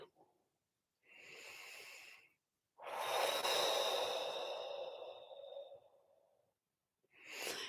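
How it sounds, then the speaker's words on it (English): Slow, deep breaths during a calm guided centering exercise, each a long airy inhale or exhale with soft nasal snorting edges, separated by brief silences and heard close and alone. "taking a couple of deep breaths"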